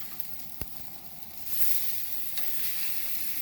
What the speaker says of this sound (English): I'm filming with one hand and trying to flip steaks with another